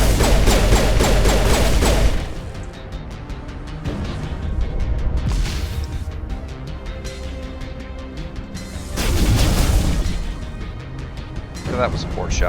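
Gunfire and explosions from the sci-fi shooter Mass Effect 1, with loud bursts of rapid fire and heavy blasts at the start and again near the end, and quieter stretches between them.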